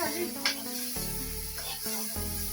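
Spice paste and ingredients for chicken curry fry in a pan with a little water, a close sizzling hiss with faint stirring scrapes and a few soft bubbling pops, steady and unaccompanied by talk.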